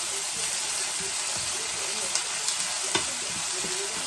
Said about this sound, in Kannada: ಜಸ್ಟ್ 2 ಮಿನಿಟ್ಸ್ ಫ್ರೈ ಮಾಡ್ತೀನಿ